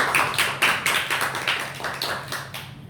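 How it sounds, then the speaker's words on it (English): A small audience claps for a few seconds after a talk on charisma, with a steady pattering of hands, moderately close and with no voices over it. "Give a big round of applause to Aristo."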